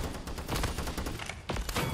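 Gunfire in the online shooter Paladins: dense, rapid bursts of shots crackle and overlap almost continuously, with a louder cluster near the end and no voice over them.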